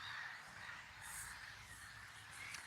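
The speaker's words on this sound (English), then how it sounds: "the birds are having a huge town meeting" A flock of crows caws in a park, faint and distant, with overlapping calls forming a steady background chorus and no speech.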